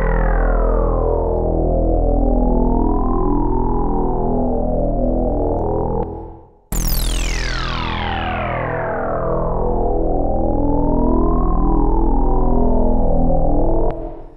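A Prophet 6 synthesizer patch set up to emulate Prophet 5 sounds, with reverb, plays a loud sustained chord whose harmonics sweep up and down. It cuts out briefly, then returns with a bright falling sweep before settling into the same swirling drone.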